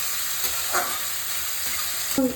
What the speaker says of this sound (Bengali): আমার পেঁয়াজটা ব্রাউন হয়ে যাচ্ছে।